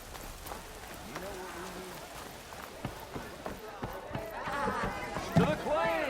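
Rain falls in the video game Horizon Forbidden West on PS5, a steady soft patter of drops on surfaces. Game characters begin talking over it toward the end.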